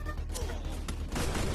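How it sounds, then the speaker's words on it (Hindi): Shotgun blasts in the Free Fire battle royale game, a couple of sharp broadband bursts standing out over a dense, busy game soundscape with constant background noise. "ओ शॉटगन था"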